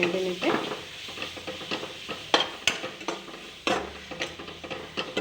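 Spices stirred in a hot frying pan while making an Assamese fish curry with tamarind, scraping and sizzling in irregular strokes with occasional clinks of the spoon against the pan, close and moderately loud with no talking.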